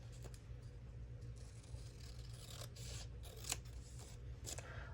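Scissors trimming paper for a July journal page, a quiet, steady run of close snipping and scraping blade sounds over a low constant hum.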